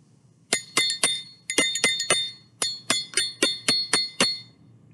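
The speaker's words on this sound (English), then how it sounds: "Her cymbals sound like this." Bright metallic crashes strike in a quick rhythmic series, about a dozen sharp ringing hits in groups, close and clear with no talking.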